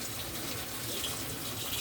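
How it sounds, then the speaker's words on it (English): Tap water runs steadily over two bunches of fresh cilantro held in a colander under a kitchen faucet, making a close and continuous splashing hiss with no voices. "2 bunches of fresh cilantro that I've got running up under the water."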